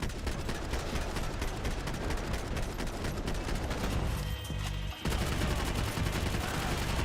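Gunfire in the video game Max Payne 3, dense rapid bursts of shots, loud and continuous with a brief break before the firing resumes.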